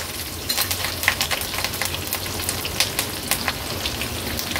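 Green chillies and curry leaves sizzle in hot oil tempered with mustard seeds and cumin, a dense crackling hiss with sharp pops scattered throughout and no talking.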